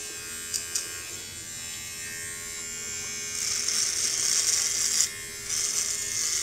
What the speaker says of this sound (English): see how it does as far as shaving my head.